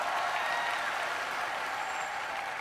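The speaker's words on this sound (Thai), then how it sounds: "ขอเสียงปรบมือครั้งให้กับอาหญิงทิพย์วรรณปิ่นพิบาล" A studio audience at a Thai singing contest show claps in steady, sustained applause, moderately distant and even throughout, with no voices standing out.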